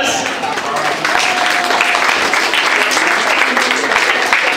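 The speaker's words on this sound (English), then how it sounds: "Clap for our teachers." An audience claps for teachers at a school English-speaking event, a loud, dense, continuous round of applause close by that holds steady throughout.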